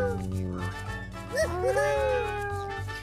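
Cats meowing in a bonus level of the video game Type:Rider, rising and falling cries heard faintly over background music and game sounds.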